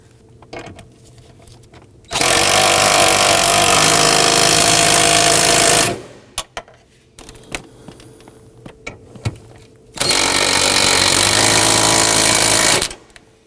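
Power tool driving the fuel pump module bolts on a 2003-2014 Volvo XC90 3.2L L6, heard as two loud, steady bursts of about four and three seconds, with quieter clicks and handling noise between them.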